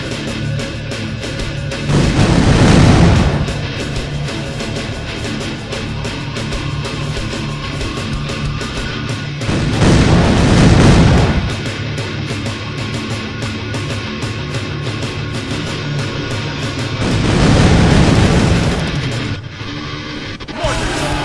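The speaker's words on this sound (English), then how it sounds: "Mortars are ready!" Mortar fire in the Kingdom Under Fire Heroes video game, three heavy rumbling barrages spaced several seconds apart over a continuous battlefield din.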